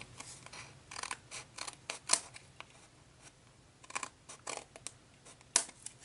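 Scissors trim a paper card in a series of quick crisp snips and small bursts of cutting, close and quiet, with short pauses between cuts.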